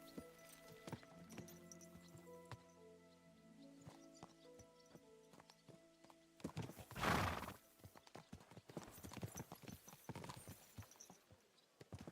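Horse hooves clip-clopping during a ride in Kingdom Come: Deliverance 2, a steady rhythmic clatter with a whinny midway, mixed with game music and ambient sound and no talking.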